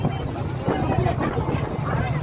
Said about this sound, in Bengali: এখানে কোনো সময় সমুদ্র শান্ত থাকে না, যেহেতু অন্তরীপ, প্রচুর হাওয়া, প্রচুর ঢেউ।